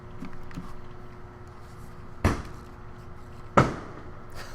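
Fireworks burst outside an apartment in two sharp, loud bangs a little over a second apart, standing out against a steady low background hum with no talk.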